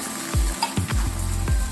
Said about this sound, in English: Add butter to the frying pan and slowly heat.